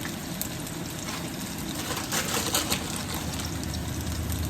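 Cumin seeds and a little onion frying in oil in a pan for tomato rasam, a steady close sizzle and crackle running continuously with no voices.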